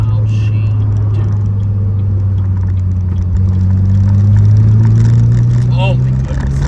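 Turbocharged Pontiac Solstice with a Stage 1 tune pulling hard into a left-hand corner, its engine a steady loud drone that climbs slightly in pitch as it accelerates, with faint chirps over the top.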